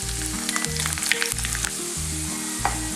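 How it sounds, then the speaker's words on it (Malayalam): Finely chopped ginger, garlic and mustard seeds fry in hot sesame oil for a Kerala banana stem pickle, a dense crackling sizzle close by with faint stirring taps, while a low humming tone runs underneath. "ഇഞ്ചി വെളുത്തുള്ളി മൂത്തിട്ടുണ്ട്."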